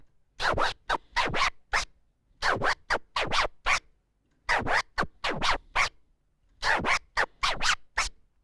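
Vinyl on a turntable worked in an Autobahn scratch pattern: quick forward-and-back strokes in tight clusters of bursts separated by brief silences, crisp and close with no talking.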